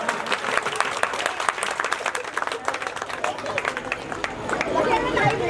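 An audience at a devotional Bhagavat katha gathering claps in a dense, lively burst of applause that swells toward the end, with crowd chatter mixed in.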